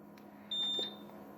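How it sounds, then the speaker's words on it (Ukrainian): A single short, high-pitched electronic beep from the alarm buzzer of an HP T1000 G3 UPS sounds over a low background hum, clear and close, with no talk. "Зараз я спробую вимкнути пищалку"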